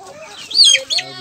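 A black Kadaknath chicken on a small farm gives a couple of close, loud clucks. A faint voice is heard nearby.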